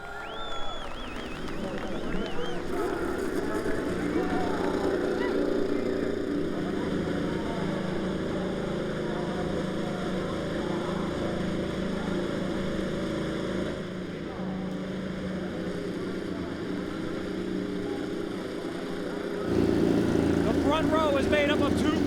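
IndyCar race car engines starting together on the grid at Mid-Ohio for the 2015 Honda Indy 200, a sustained loud mechanical drone and whine throughout, with a commentator talking over it.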